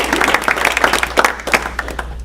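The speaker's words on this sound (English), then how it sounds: "Let's give Daniel a big round of applause." A small group claps for a guest at a Rotary Club meeting in Sanford, North Carolina, a short burst of close, uneven handclaps that fades out by the end.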